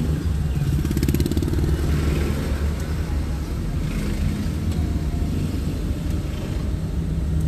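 Road traffic on a Philippine street, with motorcycles and cars droning and rumbling close by in a loud, continuous engine wash and a rattling idle near the start, and no talking.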